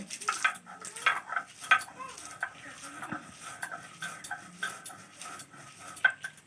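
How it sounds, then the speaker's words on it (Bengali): Roasted spices are ground by hand on a stone grinding slab for wood apple pickle, giving repeated scraping, clacking strokes at close range with no talk. "সেগুলো এখন আমি ভালো করে শিলে দিয়ে বেটে নেব"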